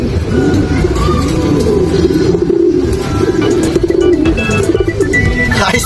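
Racing pigeons arriving at their loft coo repeatedly in low, throaty rolls, close and loud, with brief chirps and faint voices in the background.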